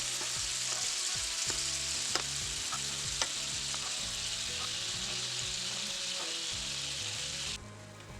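Beef sizzles and fries steadily on a hot griddle, a dense continuous crackle with a few sharp pops, close and fairly loud, easing off slightly at the very end.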